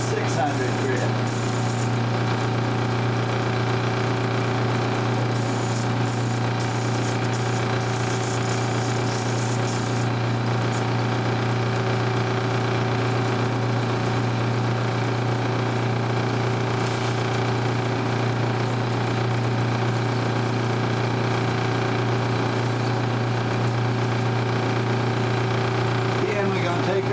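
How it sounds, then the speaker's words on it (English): A cabochon sanding drum fitted with 600 grit spins at 1725 RPM, giving a steady motor hum with strong unchanging tones and a faint scratchy hiss throughout. "Now turning the drum at 1725 RPM."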